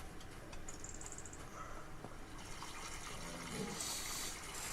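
Faint, steady hiss of water spraying out of a tank in Farming Simulator 25, a soft continuous rushing stream with a slightly brighter spray near the end, no talking.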